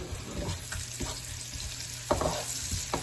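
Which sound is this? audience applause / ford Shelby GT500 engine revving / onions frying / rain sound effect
onions frying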